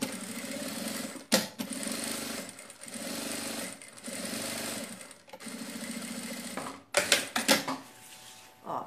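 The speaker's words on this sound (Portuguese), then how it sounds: "Vou passar uma costurinha de pesponto aqui, ó. Nessa parte que tá dobradinha." Domestic sewing machine topstitching along the folded seam of a fabric sack bag, running in several steady whirring bursts separated by short pauses, with clicks and handling sounds near the end.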